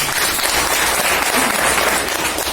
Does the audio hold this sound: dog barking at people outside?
no